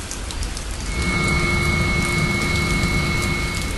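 Heavy typhoon rain pours steadily on Izu Oshima, a dense, loud, unbroken wash of falling water with a faint tonal hum in the background and no voices.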